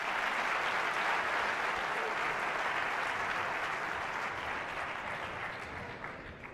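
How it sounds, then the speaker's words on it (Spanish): Sustained applause from a conference audience at a security and cryptography talk, a dense steady clapping that fills the whole stretch and fades slightly at the end. "Pues un fuerte aplauso"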